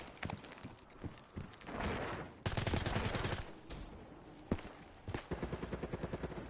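Video game gunfire crackles through a gun battle in bursts of rapid shots, with one sustained automatic stretch and another quick rattling volley, moderately loud with no talking.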